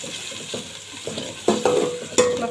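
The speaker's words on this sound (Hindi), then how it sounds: "मैं प्याज फ्राई करूँगी" Onions frying in a pan, giving a close continuous sizzle with a few sharper stirring clatters toward the end, and no voices.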